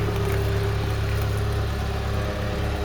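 Ford Cortina Mk3 engine idling with a repaired exhaust, a loud, steady low rumble close by that holds an even tone throughout with no revving.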